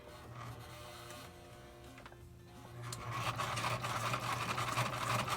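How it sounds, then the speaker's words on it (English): Sewing machine running steadily, stitching two paper pieces together for a handmade journal card, a continuous mechanical whir that grows louder and busier partway through, with no talking. "Remember, you can use your sewing machine. You can find the petal. And I'm just going to stitch those 2 together."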